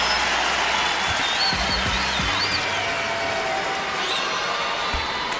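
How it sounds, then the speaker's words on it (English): Basketball arena crowd giving a standing ovation to a player, a steady broadband roar of applause and cheering that holds loud throughout, with a few faint whistles rising above it. "Standing ovation for Jermaine O'Neal."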